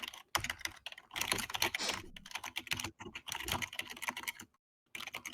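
Rapid clattering keystrokes on a computer keyboard sit right beside the microphone, coming in quick irregular bursts with brief pauses and a short silent gap near the end.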